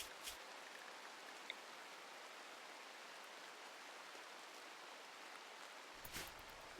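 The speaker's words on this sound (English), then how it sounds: "And also it's raining again." A soft, steady hiss of rain in the video game Rimworld fills the background, even and fairly faint, with a couple of small clicks.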